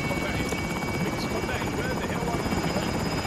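Helicopter in the video game Call of Duty Warzone, a steady close rotor drone and whine, with talking over it.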